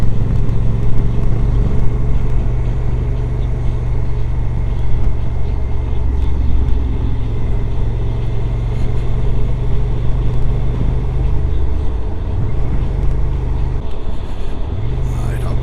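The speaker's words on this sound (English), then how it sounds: "we're stuck in traffic" Road traffic is heard from inside a car stuck in a jam near Shepperton on a rally camping trip: a steady, loud engine drone with low rumbling hum that shifts slightly near the end.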